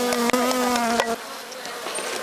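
Feral honey bees buzz up close during varroa mite sampling, a dense steady drone of many wings with a few sharp bursts. It thins out to a softer hum partway through.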